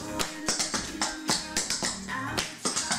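Clogging taps from a rocking chair step in an easy intermediate routine danced to Butter, a rapid run of sharp, bright shoe strikes in a driving rhythm, close and loud with no talking.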